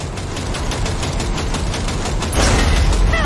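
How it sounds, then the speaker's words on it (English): Rapid automatic gunfire in Cyberpunk 2077 as a coupler is shot out, a dense, loud burst of evenly spaced shots that ends in a heavier, rougher blast near the end. "shoot out the damn coupler"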